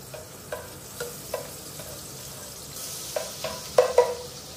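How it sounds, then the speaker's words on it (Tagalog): Clams being stirred in a pan with oil and a little butter, giving a soft sizzle under a run of light scraping and clinking taps that grow louder and sharper toward the end. "Tapos hahaluan po natin ng konting butter."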